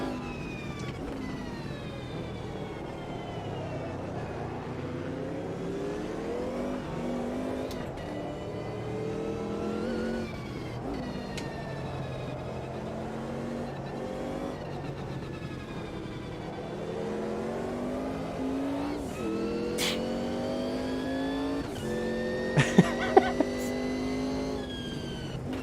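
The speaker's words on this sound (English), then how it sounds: "listen to that on the downshift next to us as well" In the Automobilista 2 racing game at Hockenheim, race car engines rise and fall continuously at moderate level, with pitch sweeping down on downshifts and other cars audible nearby.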